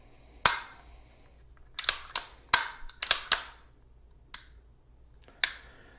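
Staccato 2011 pistol worked by hand during a function check: a series of sharp metallic clicks and snaps from the slide and trigger, irregularly spaced, close and isolated with no talk.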